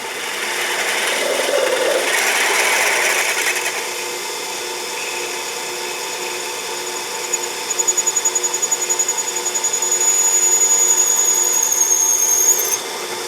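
A steady grinding, rasping sound of a drill cutting into metal on a South Bend 11 lathe runs throughout, with a thin high whine rising near the end.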